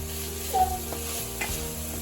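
Chopped onion sizzles steadily in a hot pan at the start of a butter chicken base, with a few soft clinks and stirring scrapes over a constant low fry.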